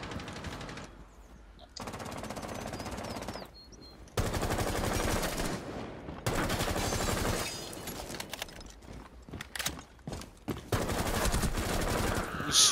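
Rapid automatic gunfire in the Rainbow Six Siege video game, loud sustained bursts and rattling volleys with brief gaps, dense and close throughout.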